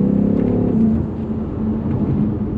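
Turbo spool and blow-off valve of a 2022 BMW M5 CS, heard as a loud, continuous engine drone with a rising whine that eases off as the car settles into cruising.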